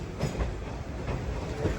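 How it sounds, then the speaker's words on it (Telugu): A superfast train standing or moving on a platform a little way off at a railway station makes a steady, moderately loud rumble with a few faint clanks. "పక్క ప్లాట్ఫామ్లో ఏదో ట్రైన్ ఉంది."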